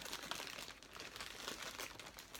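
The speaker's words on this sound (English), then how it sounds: "So we have Bouncer, who is in one layer of bubble wrap, and then he is in this clear plastic bag" Bubble wrap and a clear plastic bag wrapped around a Breyer model horse crinkle steadily and close up, a dense, even rustle of plastic with no talk.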